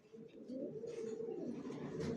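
Low rolling coos from a cage of young racing pigeons, a dense overlapping murmur that swells slightly after a quieter start, heard up close and soft.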